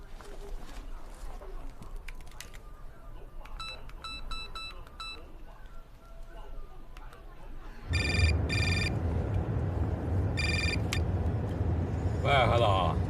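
A telephone rings repeatedly during an outgoing call, bursts of electronic ringing in regular groups, with a louder stretch of rings and background noise in the second half and no speech over it.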